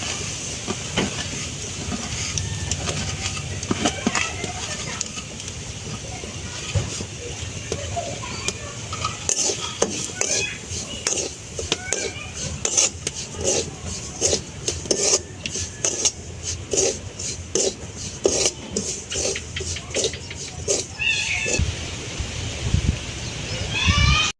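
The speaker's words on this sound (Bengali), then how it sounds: "এবার সুজিটা দিতে হইব কড়াইয়ের মধ্যে, গরম তেলের মধ্যে।" Semolina is fried in hot oil in a wok while a spatula stirs it. A soft frying hiss runs under repeated scraping and clattering strokes that grow quicker and busier toward the end.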